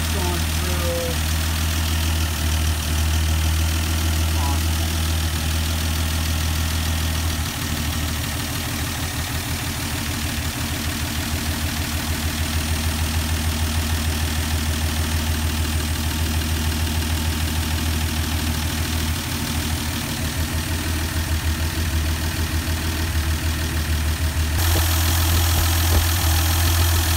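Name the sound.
1971 Dodge Demon engine idling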